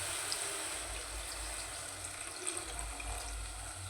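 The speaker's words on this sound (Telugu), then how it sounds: "ముక్క ఉడికేనాము వాటర్ పోస్తున్నాను చూడండి." Water is poured steadily into a pot of Telangana-style mutton curry in a home kitchen, a soft continuous splashing and trickling that runs unbroken, fairly faint and close.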